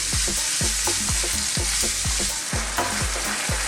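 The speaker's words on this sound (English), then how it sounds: "I'm just going to be turning and tossing this around in the pan" Minced beef or lamb frying in a hot pan, a continuous loud sizzle broken by regular scraping thumps as the meat is turned and tossed, roughly three strokes a second, with no voices.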